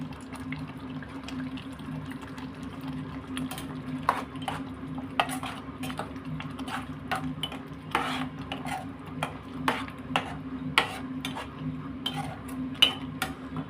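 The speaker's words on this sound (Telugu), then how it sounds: "ఇప్పుడు పన్నీర్ వేసేద్దాం." Paneer being stirred into a simmering pot of gravy, with a steady low bubbling hum under repeated sharp clinks and scrapes of a spoon against the vessel, close and fairly quiet.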